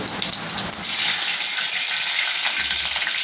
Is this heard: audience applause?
no